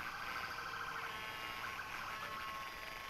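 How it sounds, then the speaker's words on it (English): Ambulance and emergency sirens wail in a street parade, moderately faint and steady over a broad crowd and traffic rumble. "We got some more sirens coming up behind them."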